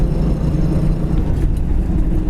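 A blue 1971 Ford Mustang Mach 1 with a two-barrel carburetor runs with a steady, loud low-frequency rumble close by, holding an even drone the whole time without revving.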